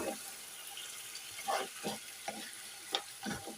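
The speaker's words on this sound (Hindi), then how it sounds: "और इसको भी साथ ही फ्राई कर देंगे।" Capsicum frying together with mutton in a pot, a steady low sizzle broken by several short stirring scrapes and clatters spread across the moment, close and moderately loud with no talking.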